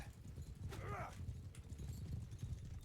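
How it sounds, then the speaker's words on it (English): Quiet, rhythmic thuds of horse hooves plod along in a low rumble in Mount & Blade II: Bannerlord, with a brief whinny-like squeal early on amid faint game ambience. "You can hear horse."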